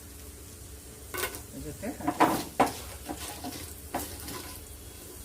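Coriander seeds and Byadagi chillies sizzle and crackle in a pan while vegetable saagu is being made, with a few louder crackling bursts rising over a steady low hiss as a person talks.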